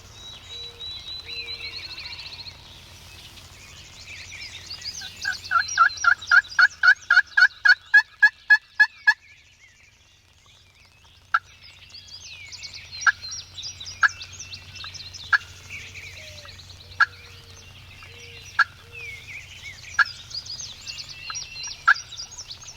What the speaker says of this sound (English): we got one gobbling